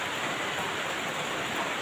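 Steady rain forms a dense, even hiss that runs unbroken throughout, with no voices over it.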